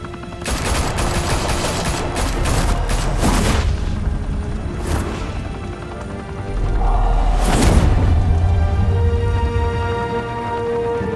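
Gunfire erupts in a Batman video game, dense overlapping bursts of shots and heavy booms crowding the whole stretch, with louder volleys near the start and around the middle over a constant rumbling game soundscape.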